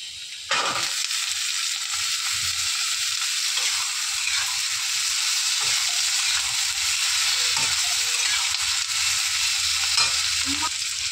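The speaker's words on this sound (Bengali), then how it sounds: "পেঁয়াজটাকে হালকা ভেজে নিয়ে এবার এর মধ্যে আমি আলু আর বেগুনটা দিয়ে দেবো" Onion, potato and eggplant fry in oil in a pan, a strong steady sizzle close by with occasional soft stirring knocks and scrapes, no voices.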